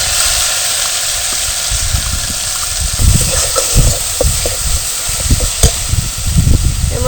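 Ground spice paste drops into hot oil for panipuri fuchka filling, setting off a loud close sizzle that swells after a few seconds, with stirring scrapes and sharp spattering pops over a constant hiss.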